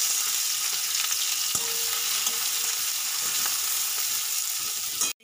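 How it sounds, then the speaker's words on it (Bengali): Chopped onion sizzles in hot oil in a pan alongside frying prawns, a loud, even frying hiss with occasional stirring scrapes, with no talking, cutting off abruptly at the end. "এবারে দিয়ে দেবো পেঁয়াজ কুচি।"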